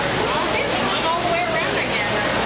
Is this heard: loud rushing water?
yes